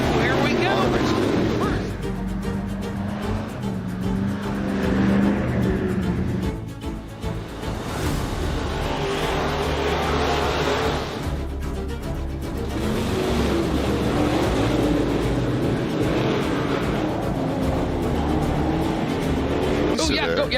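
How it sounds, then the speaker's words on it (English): Race cars circle the dirt oval at Boone Speedway in Boone, Iowa, during hot laps on a race night, their engines a continuous loud roar with surges as cars pass, under steady crowd noise and nearby talk. "Look at this, we got race cars."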